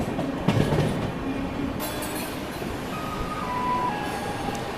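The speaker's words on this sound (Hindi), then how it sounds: "बहुत ही स्लो रफ्तार में नैनी जंक्शन का स्किप हो रहा है" The Ranchi Rajdhani Express rolls slowly through Naini Junction with a steady low rumble of carriages and faint wheel clatter, plus a brief squeal high above the noise.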